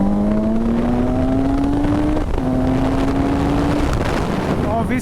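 A Suzuki GSX-750S naked motorcycle, 115 horsepower, accelerates hard with a loud rising engine drone, one gear change near the middle and another near the end, with wind noise throughout.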